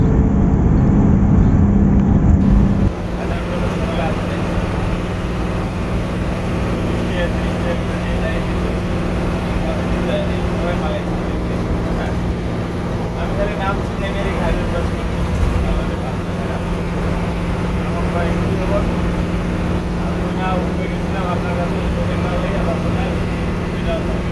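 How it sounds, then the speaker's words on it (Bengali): A brand-new Hino AK1G engine drones steadily as the vehicle cruises the highway from Gobindaganj to Dinajpur, a continuous low rumble with road noise that is slightly louder for the first few seconds, then holds even for the rest. "ব্র্যান্ড নিউ হিনো AK1G ইঞ্জিনের সাউন্ড শুনতে শুনতে আপনারা উপভোগ করে থাকুন"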